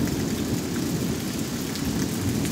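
Heavy rain pouring steadily outdoors with rumbling thunder, a dense, unbroken wash of noise with no voices.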